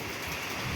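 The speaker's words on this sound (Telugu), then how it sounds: "వర్షం కూడా గట్టిగా పడుతుంది" Heavy cyclone rain with strong wind gives a dense, continuous roar of pouring water and gusts that fills the whole short moment without a break.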